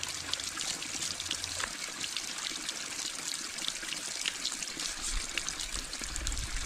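Soapy water from a spring line runs steadily over beaver skulls being cleaned, a continuous trickling and splashing flow with no pauses.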